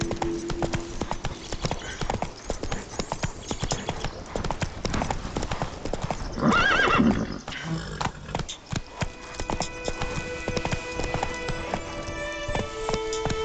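Hoofbeats of Geralt's horse Roach galloping in The Witcher video game, a fast steady clip-clop running throughout, with a brief snort or whinny midway and a voice and game sounds mixed in.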